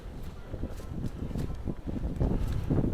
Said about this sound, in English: I hope the noise reduction is working because it is windy.